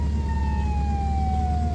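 Ambulance siren from the emergency-services video game Flashing Lights, a steady loud wailing tone sliding slowly downward over constant engine and road rumble, with no voices.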